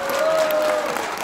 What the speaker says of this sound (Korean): 다시 한번 목사님께 큰 박수 부탁드리겠습니다.